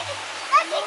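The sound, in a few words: water flowing down rocks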